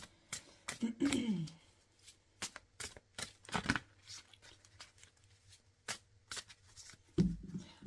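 Tarot cards are shuffled by hand, giving a quick series of crisp riffling bursts and soft slaps as cards fly out, close and fairly quiet, with brief pauses between handlings.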